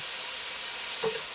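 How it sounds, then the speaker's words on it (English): Soy sauce sprinkled onto tofu frying in a pan gives a steady, soft sizzle throughout, with a small brief flare in the hiss near the end. "I'm going to sprinkle in some of the soy sauce to salt it up"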